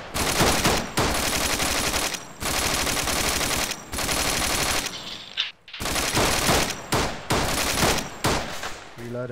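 Loud live gunfire during a fire-and-movement assault drill, near and sustained, with dense bursts of rifle and machine-gun fire broken by a few short pauses and no talk.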